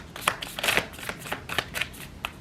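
Tarot cards are shuffled by hand in quick, soft riffling bursts, several papery flutters and slaps in a short close-up run, fairly quiet with no talking.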